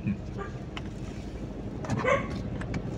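A dog barks a few times in the distance, brief yips amid outdoor noise and a passing voice.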